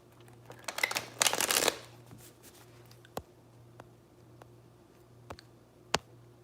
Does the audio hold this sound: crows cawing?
no